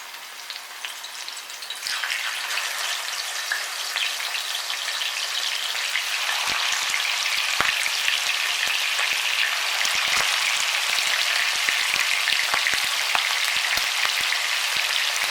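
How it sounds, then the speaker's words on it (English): Puerto Rican style pork chunks frying in a pan, a steady loud sizzle that swells after a brief quieter start, with scattered pops and crackles over the constant hiss. "let's begin frying these bad boys"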